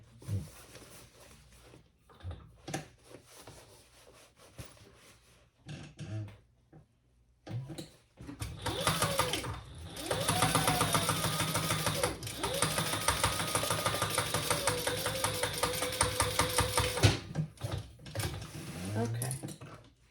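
Sewing machine stitching a seam, a fast rattling run of several seconds after scattered handling clicks and brief bursts, close and fairly loud, with a voice heard intermittently.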